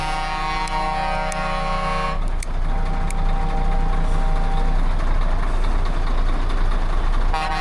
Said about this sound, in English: People are beeping and honking.